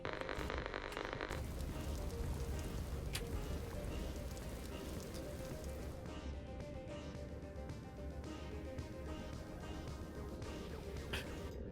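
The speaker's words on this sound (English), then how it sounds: "I could see the rain impact on the lens." Steady rain falls in the video game Empty Shell, a dense, even hiss of drops on surfaces that carries unbroken for the whole stretch with no talking.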